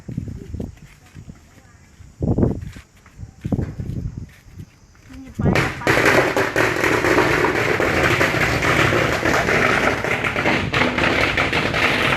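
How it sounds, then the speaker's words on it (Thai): Firecrackers set off outdoors at Don Hoi Lot in Thailand: after a few scattered thumps and talk, a sudden loud burst at about five seconds launches a dense, continuous crackling barrage that runs to the end. "ตาจะจุดประทัดแล้ว"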